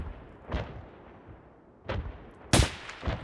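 Gunfire exchanged between PMC fighters in the shooter game Escape from Tarkov: a few separate distant shots and short bursts, the last one sharper and louder, with quiet gaps between them and no talking.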